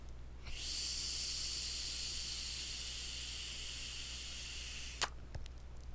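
Vapor drawn through a Yocan Favotank vape tank, a single sustained airy hiss lasting about four seconds, close and fairly quiet, ending abruptly with a small click.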